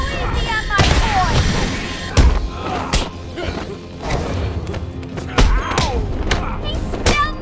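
Gunfire in Batman: Arkham Asylum, with several sharp, heavy shots and thuds spaced irregularly over a busy, noisy game scene, punchy and close.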